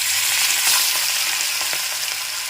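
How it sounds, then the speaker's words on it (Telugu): Fish sizzles steadily in hot oil in a pan, a dense, continuous crackling hiss that stays loud and close throughout with no talking. "చక్కగా ఫ్రై అయిపోతాయండి."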